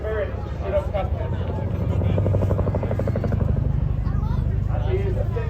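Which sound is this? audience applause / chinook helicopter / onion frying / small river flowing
chinook helicopter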